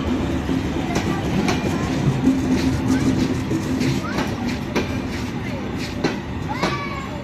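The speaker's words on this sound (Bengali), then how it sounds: "অল্প কিছুক্ষণের মধ্যেই ট্রেনটি এখানে দাঁড়াবে এবং তারপর আবার ঢাকার উদ্দেশ্যে এই ট্রেনটি ছেড়ে যাবে" A passenger train pulls into a Bangladeshi station bound for Dhaka, its steady wheel rumble and clatter running throughout with occasional metallic squeals and knocks, while murmuring voices sound in the background.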